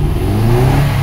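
A 2007 Subaru Forester, non-turbo, gets a short sharp throttle snap: a close mid-pitched engine rev that rises and then drops back toward idle in about a second.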